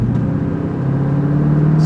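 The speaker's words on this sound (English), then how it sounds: "still a little bit of a hiccup when the car's at a stop. There's a surge that happens." A Mercedes SEC AMG with an idle surge fault sits at a stop with its engine running, giving a steady close low hum with a slight swell in level toward the end.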